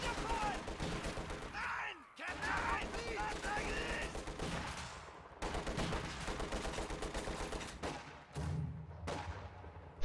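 DP machine gun fire in a World War II strategy video game battle: dense, rapid bursts of gunfire with a few brief pauses, busy and continuous at low overall level.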